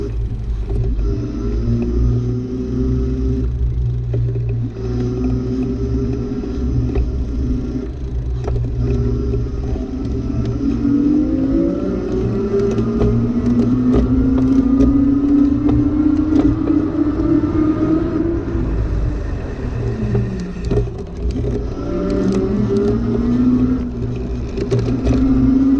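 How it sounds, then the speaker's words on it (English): An AddMotoR MOTAN M-560 electric bike motor kicking in and cutting out while pedaling: a steady low rumble under a whirring motor whine that rises and falls in pitch as it engages and drops off. "so you guys can hear the motor starting and cutting off and kind of see the delay I was talking about"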